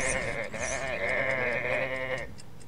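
A single sheep bleats loudly and close up in one long, wavering call lasting a couple of seconds, with no other sound around it.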